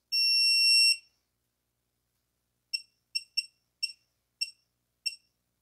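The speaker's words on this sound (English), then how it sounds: "So now I'm going to set the digital torque wrench to 15 foot-pounds." A digital torque wrench beeps as it is set to 15 foot-pounds, first with one long, high electronic tone and then six short, sharp beeps at uneven intervals, clear and close in an otherwise silent room.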